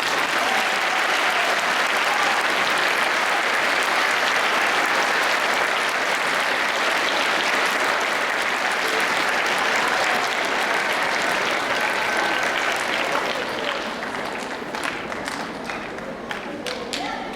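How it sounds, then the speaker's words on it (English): Audience applause at a speech event: dense, sustained clapping from a crowd, loud and continuous, thinning slightly toward the end. "I'd love for you to give him a round of applause for this."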